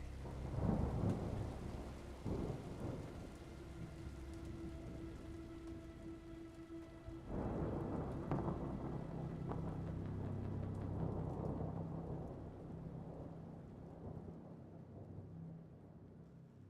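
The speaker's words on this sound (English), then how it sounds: "rain pounding on the cracked windshield of my hover" Heavy rain beats on a cracked vehicle windshield in the survival horror game Hollow Body, with deep rolling thunder rumbling through a steady downpour and no voices.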